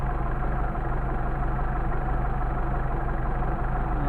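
A Mercedes 190SL engine with freshly adjusted Solex carburetors idles smoothly and steadily up close, a low, even rumble with a regular pulsing beat and no voices.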